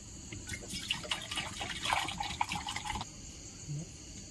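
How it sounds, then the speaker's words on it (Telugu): Water poured into jaggery for a village-style syrup, heard as a close, splashy pour lasting about three seconds before it stops, leaving a quieter tail. "ఇంకో అర లీటర్ నీళ్ళు పోస్తున్నానండి కేజీకి అర లీటర్ అండి రెండు కేజీలకి లీటర్ నీళ్ళు"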